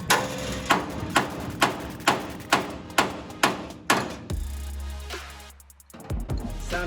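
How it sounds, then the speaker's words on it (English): A run of about nine sharp metallic hammer strikes on a rusted-on part of a VW Bus, struck in a steady rhythm, followed by a low mechanical rumble. "I need to give it a few hammer whacks."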